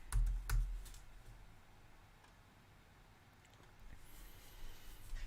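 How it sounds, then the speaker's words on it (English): A few close computer keyboard keystrokes tap near the start and again near the end, with quiet room noise between them. "Just type this in."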